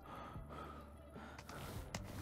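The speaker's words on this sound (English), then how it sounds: "All I hear is your breathing." Close, steady breathing into a headset microphone while the game The Forest is being played, with a few sharper gasping or snorting breaths standing out over a low, constant background hiss.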